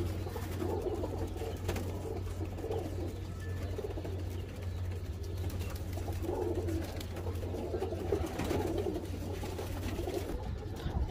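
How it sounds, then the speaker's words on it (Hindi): Pigeons coo in repeated soft, rolling phrases over a steady low hum, with no talk. "और ये कबूतर है दोस्तों"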